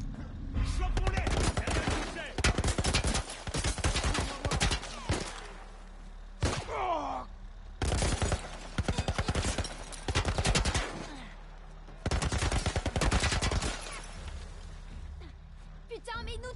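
Military-style automatic gunfire in The Last of Us Part I, loud rapid bursts and volleys of shots repeating across the whole stretch with brief gaps between them, with voices talking over parts of it.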